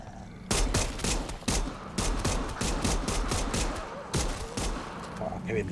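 Rapid gunfire in the zombie video game Dead Island 2 on PS4, a dense burst of sharp repeated shots following an opening shot, loud and close.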